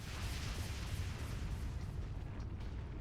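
A fire attack in Trails Through Daybreak unleashes a steady, rumbling roar of flame with a crackling, explosive texture, sustained and fairly loud for a few seconds.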